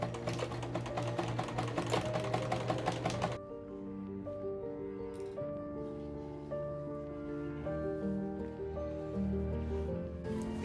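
A sewing machine runs a straight stitch through thrifted corset fabric, a steady fast mechanical chatter close by that clatters loudly at first and then settles into a smoother, quieter hum.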